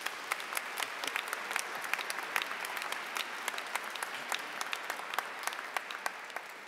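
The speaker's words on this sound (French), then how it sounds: "Applaudissons pour elle." A church congregation claps steadily at the close of a Sunday Easter-season Mass, a dense even patter of many hands that carries on evenly throughout.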